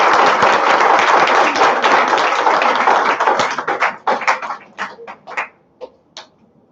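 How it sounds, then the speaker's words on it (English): Seminar audience applause at a medical college, dense clapping from many hands that thins out into a few scattered, separate claps before stopping. "let's give them another big round of applause"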